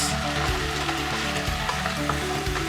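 Green beans sizzle steadily in a pot as they are stirred, a close continuous frying hiss with faint scraping from the spoon and no voices.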